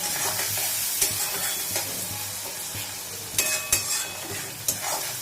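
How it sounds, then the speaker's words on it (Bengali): Onion with a spoonful of turmeric powder fries in a pan with a continuous hiss. A few sharper scrapes from a spatula break through near the end, close and unaccompanied by voices. "খুব ভালো করে পেঁয়াজের সাথে মিশিয়ে নেবো হলুদটা আর পেঁয়াজটা খুব ভালো করে ভেজে নেবো"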